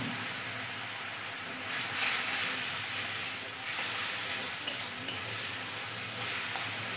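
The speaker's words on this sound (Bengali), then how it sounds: "এবার মশলাটা ভালোভাবে কষে নিতে হবে" Spice paste with salt and turmeric frying in a pan for a potato and soya chunk curry, a steady close hiss of sizzling oil with occasional stirring scrapes, no voices.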